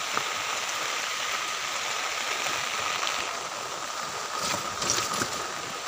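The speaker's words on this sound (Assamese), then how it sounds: "পটককৈ বৰষুণ জাক আহিলে।" A sudden rain shower falls outdoors, a continuous wash of steady patter close by with a few sharper splashes toward the end and no talk.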